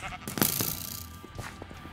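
Sheep bleat in a Mineplex arcade game, two or three short wavering calls over quick game effects, fairly close and clear with no talk.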